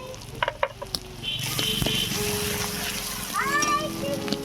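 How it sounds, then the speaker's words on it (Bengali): Spice paste of chili, cumin and coriander powder sizzles and fries steadily in a pan while green tomato jhal is cooked village-style, with scraping stirs and faint voices in the background. "অল্প একটু জল দিয়ে মশলাটাকে কষিয়ে নেব।"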